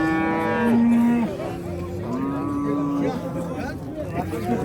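Cattle and heifers moo loudly and close by at a livestock market, several long drawn-out calls one after another, over a low murmur of a crowd.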